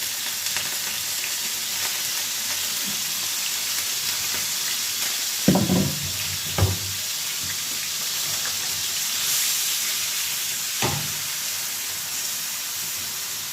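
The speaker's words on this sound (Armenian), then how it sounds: "Մի քիչ յուղի մեջ բրինձը տապակում եմ, որ այդ ջուրը քաշվի։" Rice frying in a little oil in a pan, with a continuous soft sizzle and a few louder bursts of crackling as it is stirred. No one speaks.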